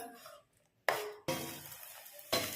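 Onion paste and ginger garlic paste fried in oil in a pan and stirred now and then, with soft scraping stirs and gentle sizzling that come in bursts between quiet pauses.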